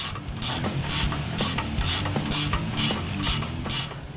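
Socket wrench ratcheting while tightening a ball joint on a 2015–2018 Ford F-150 during a Roush suspension kit install, with about nine evenly spaced bursts of sharp clicking, close and loud, no talk.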